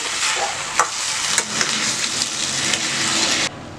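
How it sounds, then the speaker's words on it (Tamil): Rice and lentils being mixed in a pot for green gram pongal, a continuous wet scraping and stirring noise with a few sharp clacks of the spoon against the pot, close and fairly loud, stopping abruptly near the end. "ரைஸும் பருப்பும் நல்லா கலக்கி விடுங்க"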